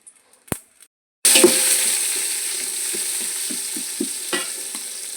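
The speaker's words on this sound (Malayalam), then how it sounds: "പൊരിഞ്ഞ് വരുന്നുണ്ട് അപ്പത്തേക്ക് നമുക്ക് ഈ സവാളയും കൂടി അരിച്ചിട്ട് കൊടുക്കുക" Sliced onion drops into hot oil with whole cinnamon, cloves and cardamom, bursting into a loud, steady sizzle after a second of near silence, with occasional stirring clicks through the frying.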